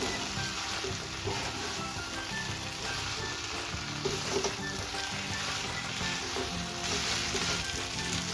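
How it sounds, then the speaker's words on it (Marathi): Tomato rice being stir-fried in a pan, a steady close sizzle with faint scraping of the spoon running throughout. "आता आपण अगदी व्यवस्थित असं परतून घ्यायचं आहे."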